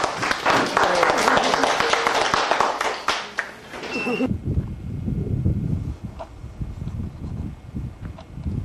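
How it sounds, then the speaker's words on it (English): A group gives a dense round of applause for two junior rangers at an outdoor ranger program, crisp claps for about four seconds before cutting off sharply. Voices then talk amid light wind noise. "give them a big round of applause, please"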